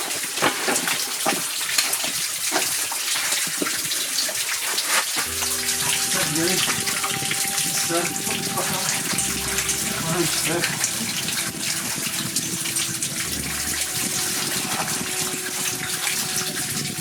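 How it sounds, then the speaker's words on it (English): Spring water welling up inside a barrel after days of heavy rain, a steady gushing, bubbling wash that runs the whole time, with a low pump-like hum entering partway through and a few voices talking faintly. "we've got a little water spring coming up under the inside the barrel"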